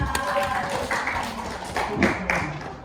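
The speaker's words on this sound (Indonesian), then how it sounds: "Kita beri tepuk tangan untuk Anwar." Classmates give a brief burst of applause for a student during a classroom lesson, the scattered hand claps sounding close and fairly loud with a few sharper individual claps standing out.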